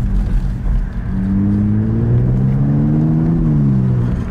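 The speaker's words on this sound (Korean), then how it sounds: "아마 배기 소리도 듣고 그렇지 않아?" Mercedes-Benz SLC 43 AMG roadster driving on an open road with the top down, its exhaust giving a steady loud low drone that rises in pitch as the engine builds revs, heard from inside the car with no talking.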